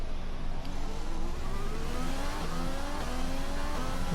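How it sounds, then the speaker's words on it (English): Renault Formula 1 engine in the F1 2020 racing game, a steady high-pitched hum rising and shifting through gears with rapid upshifts, loud and continuous with no talk. "I love the sound of the Renault engine."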